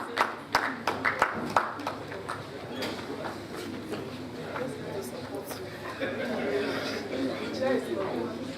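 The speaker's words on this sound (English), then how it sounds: "So please, a round of applause for our Jenny" An audience claps at a scientific conference of a faculty of basic medical sciences, a burst of scattered hand claps in the opening seconds that fades into steady room chatter and a voice speaking throughout.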